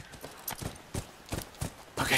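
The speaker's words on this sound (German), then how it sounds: "Ellie, hol mich bitte ab mit deinem Pferd." Horse hooves clip-clop in The Last Of Us video game, a handful of distinct, fairly close thuds in an uneven walking rhythm, heard alone.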